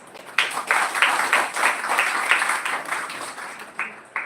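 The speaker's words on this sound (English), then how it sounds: "big round of applause for her, please" An audience at a college special lecture applauds a speaker, a burst of steady rhythmic clapping that starts abruptly, holds for a few seconds, then tapers off with a couple of final claps.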